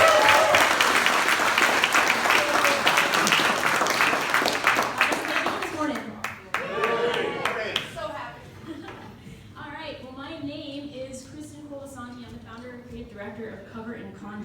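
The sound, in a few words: audience applause welcoming a speaker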